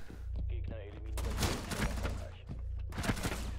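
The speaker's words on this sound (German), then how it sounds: "Einfach in jede Richtung geschossen." Rapid video game gunfire from a multiplayer shooter, bursts of shots fired in every direction, loud and dense, with a voice talking over parts of it.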